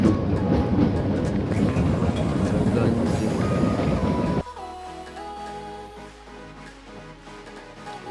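Train rolling along the rails toward Shimla through hill country, a steady loud rumble of wheels with clattering in the first half, then a quieter carriage interior with a low hum, faint clicks and muffled voices.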